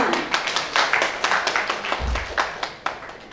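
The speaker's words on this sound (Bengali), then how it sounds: "হাততালির আওয়াজটা একটু" A crowd at a Sentini Flo Pipes dealer meet in Murshidabad, West Bengal claps in scattered, uneven bursts. The sharp hand slaps come from several people at moderate loudness, with no speech over them.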